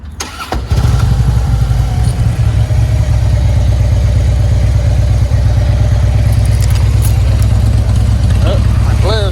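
A Harley motorcycle bought from a salvage auction and prone to bogging fires up and settles into a loud, close, lumpy idle that stays steady and uneven throughout.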